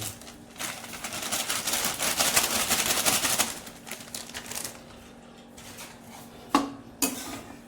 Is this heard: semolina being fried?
yes